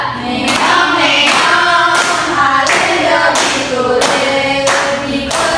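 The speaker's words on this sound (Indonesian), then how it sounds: "beri tepuk tangan ya" Classroom children clapping hands together in a rhythmic pattern of loud, sharp bursts repeating roughly every half to one second, close and alone without talk.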